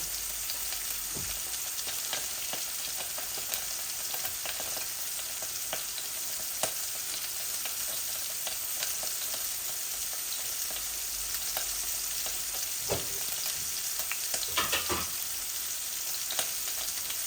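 Cumin seeds, then flat beans, fry in hot oil in a pan with a steady, close, hissing sizzle and scattered crackles and pops. The sizzle runs continuously with no voices.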